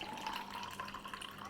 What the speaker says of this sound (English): So now let's pour our drink.